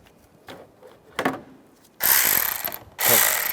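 A tool tightening the stud nut on a 2005-2010 Chevrolet Cobalt clutch slave cylinder, a few short clicks followed by two loud sustained ratcheting bursts, close up with no voices.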